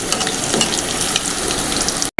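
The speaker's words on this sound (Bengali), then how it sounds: "আলুগুলো সব লাল করে ভেজে নেব বন্ধুরা" Potatoes frying in oil in a wok give a steady, close sizzle with light stirring scrapes, cutting to a brief silence and then a short sharp burst at the end.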